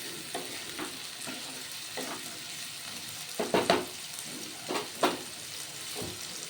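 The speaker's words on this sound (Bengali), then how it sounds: "ক্যাপসিকাম দিয়ে একটু হালকা নাড়াচাড়া করে নেব" Capsicum being stirred in a frying pan for a flattened-rice pulao, with soft sizzling and intermittent scraping strokes of a spatula, a few louder stirs standing out close by.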